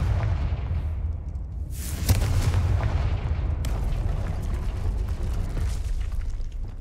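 Confringo blasting spell from Hogwarts Legacy, a sustained booming rumble with a sharp blast near the two-second mark and another surge shortly after, loud and continuous with no voices.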